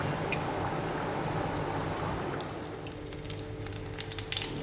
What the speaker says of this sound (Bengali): এই যে আলুটাও দিয়ে ভালো করে কষিয়ে নেব